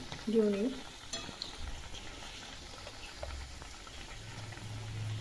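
Pav vada fries in oil in a pan and is flipped over, giving a faint, steady sizzle with a soft clatter of the pan near the start.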